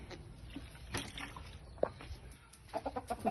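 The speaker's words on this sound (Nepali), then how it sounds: "कुखुराको खोर" Chickens in a coop by a small kitchen garden give several short clucks and a sharper squawk, fairly near, with scattered rustling and bumps in between and a run of quick clucks toward the end.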